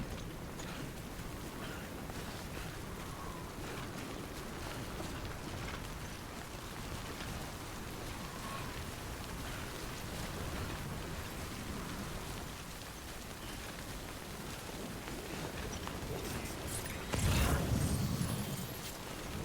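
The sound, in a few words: rain falling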